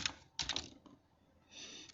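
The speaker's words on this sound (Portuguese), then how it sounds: "Vou utilizar o teclado aqui para digitar." Brief bursts of keyboard typing on a device while configuring a FOIF A90 GNSS receiver, a few quick close keystroke clusters separated by a short quiet gap.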